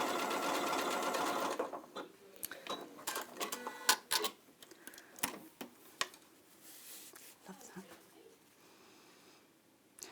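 An Elna 720 PRO sewing machine stitches a back stitch, starting with a fast continuous run and then breaking into short clattering bursts with clicks and pauses, close up and fairly quiet.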